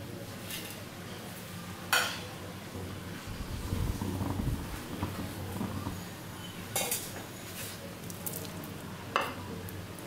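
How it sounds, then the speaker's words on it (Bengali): Fried prawns are tipped into a pot of simmering jackfruit curry: a few sharp metallic clanks of a utensil against the pot ring out over a low, steady bubbling rumble. "এবার দিয়ে দিচ্ছি ভেজে রাখা চিংড়ি মাছগুলো"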